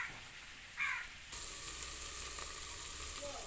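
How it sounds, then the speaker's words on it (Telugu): Buttermilk curry (majjiga pulusu) simmers in a pot on a low stove flame, giving a soft, steady hiss and gentle bubbling, faint and continuous, with a brief metallic clink early on. "స్టవ్ వెలిగించిన తర్వాత ఇదిగోండి ఫ్లేము అలా సిమ్లో పెట్టుకొని పులుసుని మరిగించుకోవాలండి"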